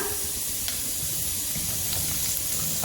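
Chopped onions hissing steadily as they fry in three to four tablespoons of hot oil in a heated pot, with a dense, even sizzle throughout.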